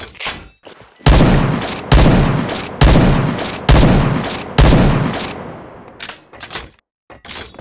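Close, loud bursts of automatic gunfire from the Point Blank video game, about five sustained volleys in a row, each cutting off abruptly, then a few scattered lighter shots at the end.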